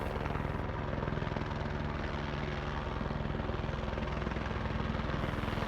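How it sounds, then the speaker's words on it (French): A helicopter in a mountain setting drones loudly and steadily with a constant rotor thump that fills the whole stretch, with no voices. "L'hélicoptère fait beaucoup de bruit et nous l'entendons de loin arriver."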